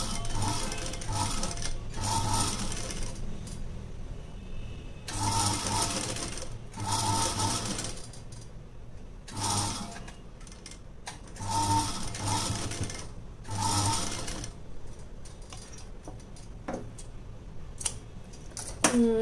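A sewing machine stitching along fabric edges while making a decorative dori, running in short repeated bursts of rapid mechanical clatter separated by brief pauses, close and alone with no talk.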